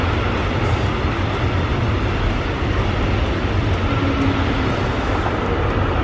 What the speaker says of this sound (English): Just want to start recording and a big train goes past.